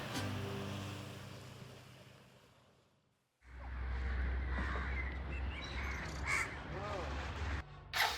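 Sea waves washing on a Konkan beach at dusk, a steady low surf roar after a quiet gap, with crows cawing nearby over the water.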